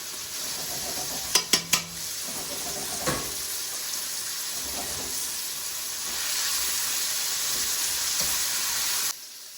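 Sauce for chicken francaise bubbling and sizzling in a pan, a steady close hiss with a few sharp clinks of a utensil near the start and the sizzle swelling slightly toward the end before cutting off.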